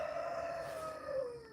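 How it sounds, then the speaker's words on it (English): A rooster crows once, a drawn-out call that sounds distant and fairly faint against soft outdoor background noise. "I hear the roosters."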